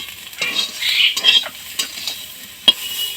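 Food sizzles in a hot pan while a utensil stirs and scrapes, with a few sharp clinks against the metal, close and fairly loud.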